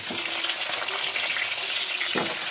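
Potatoes added to a cabbage curry frying in a pan, giving a close, steady sizzle with a few stirring knocks and a brief splash-like burst near the end.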